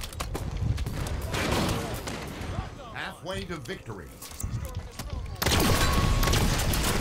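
Railgun and scatter gun fire in a first-person shooter game, bursts of loud crackling shots at the start and end with an electronic warbling sweep between, under an announcer voice.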